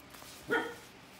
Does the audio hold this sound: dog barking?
yes